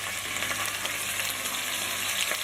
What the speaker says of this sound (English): You need that sizzle.